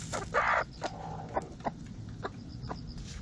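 A broody former laying hen sitting on eggs clucks softly in short, spaced-out bursts, with one louder squawk near the start, against quiet background noise.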